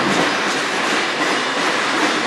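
A train rolls past on the Strathroy Subdivision rail line, a loud, close, continuous roar of wheels and cars with a faint clickety-clack throughout.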